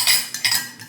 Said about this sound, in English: gonna stir this in good